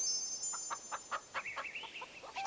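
Chickens cluck in a video game farm, a quick run of short repeated clucks and one longer drawn-out call, fairly faint against a quiet background with no talking.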